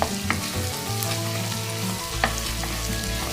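Chopped green chillies are stirred and fried in hot oil for fish pickle. A loud continuous sizzle runs throughout, broken by a few clinks of a utensil against the pan.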